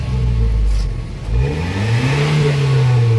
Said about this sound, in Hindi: आपको पीछे देते हैं एक्सीलेटर दे के गाड़ी रेस देते हैं